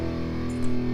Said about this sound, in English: So that's why I threw in the guitar power chords from Metropolis Arc 1